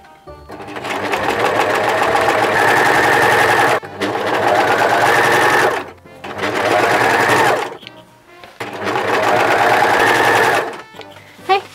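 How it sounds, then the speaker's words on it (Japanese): An overlock serger sewing machine stitches together patches of old ragged fabric in four long, loud bursts of rapid whirring, each separated by a brief pause. "私はロックミシンで端かがりながらするけど"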